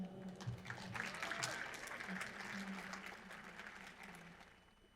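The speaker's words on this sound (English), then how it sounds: "let's give one more round of applause for Rick and that great information." Applause from a business talk audience, a steady, moderately loud wash of clapping that continues throughout with some talk mixed in under it.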